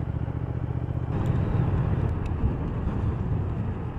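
A 2019 Triumph Thruxton R 1200 motorcycle runs while being ridden, its steady low engine rumble carrying on continuously and close by, thickening slightly after the first second, with no one talking.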